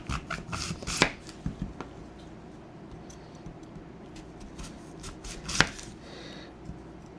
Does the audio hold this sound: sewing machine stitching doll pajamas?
no